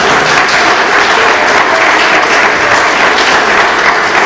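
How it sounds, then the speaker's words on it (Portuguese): Loud, steady applause from a church congregation fills the space throughout, a dense wash of clapping without any break. "Vocês podem aplaudir a Jesus?"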